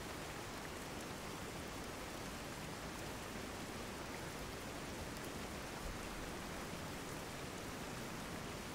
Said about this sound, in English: It's only rain.